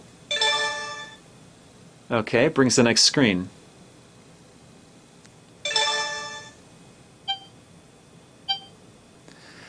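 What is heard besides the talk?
sound played by a phone remote app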